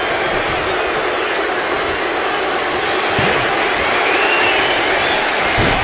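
A large wrestling arena crowd keeps up a steady, loud roar of cheering for Randy Orton, with a few sharp slams and thuds cutting through the continuous noise.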